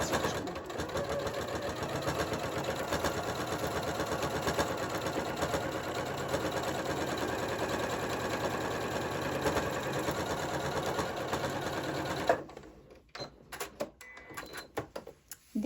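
A sewing machine runs steadily, stitching along the edge of a fabric keychain wristlet for about twelve seconds of continuous rapid whirring, then stops, leaving scattered quiet handling clicks.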